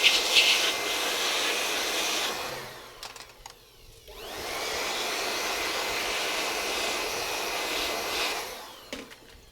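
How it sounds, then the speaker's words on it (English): An air blower cleans the cooling fan of a Lenovo G550 laptop, a steady loud hiss in two long bursts separated by a brief pause, close to the listener. "Let's use a blower for the fan."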